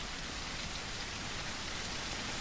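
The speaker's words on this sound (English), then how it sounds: "It's going to be very easy for something to sneak up on us in the rain." Steady rain in the zombie survival game Surroundead, a dense, even hiss of falling drops spread across the whole scene, continuous and fairly quiet with no voices.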